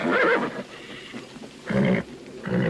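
A stallion in a western film lets out loud whinnying neighs in three separate bursts, with quieter stretches between them.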